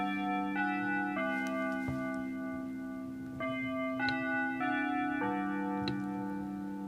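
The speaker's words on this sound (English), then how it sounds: "I can wait till the bell's finished" A quorum call bell rings in a council chamber, a series of sustained electric bell tones that restart every second or so, clear and steady in a quiet room.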